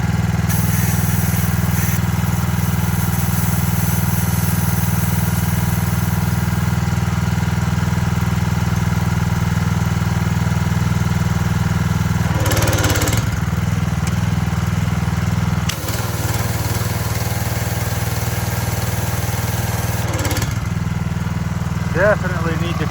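A power washer's small engine runs at low RPM, a loud steady idling drone with a few brief bursts and knocks, while someone talks over it at times.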